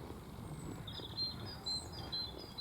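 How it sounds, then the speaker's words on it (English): Birdsong in Roselawn Cemetery, Belfast: faint, thin chirps and short whistled phrases repeat over quiet, low outdoor background noise. "I'm hearing birdsong here all the time."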